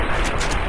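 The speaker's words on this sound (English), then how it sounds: "I missed both shots." A loud, dense burst of gunfire fills a brief moment of Fallout: New Vegas DLC gameplay, harsh and continuous with no voices over it.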